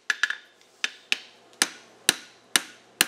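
Hammer blows ring out on a steel bar being forged into a two-piece bevel horseshoe over an anvil: about nine sharp, bright metallic strikes in a steady rhythm, close and loud, each with a short ringing decay and no talk.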